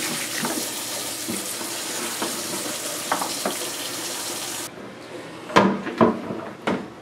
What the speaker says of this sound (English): We'll give it a quick little rinse off here.